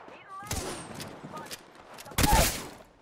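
Apex Legends gunfire crackles in rapid bursts, first at a moderate distance and then as a loud, close volley near the end, with faint game effects between the shots.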